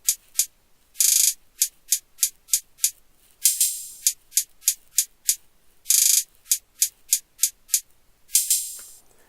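A programmed hip-hop beat in FL Studio plays short closed hi-hat ticks in quick runs broken by longer hissing open hi-hats, a crisp repeating loop heard alone.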